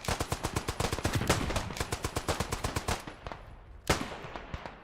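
A machine gun in the World War I shooter Beyond the Wire fires a rapid, steady burst of about three seconds, then falls silent before one more loud shot and a faint trailing crack.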